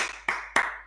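Two sharp, close hand claps about a quarter second apart in a quiet room, with no voices.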